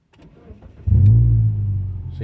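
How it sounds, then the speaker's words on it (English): A car engine turning over via a Compustar 2W 705 SH remote starter: a brief cranking chatter, then the engine catches with a loud surge and settles into a steady close idle. "I just have to keep pressing on it to start the engine"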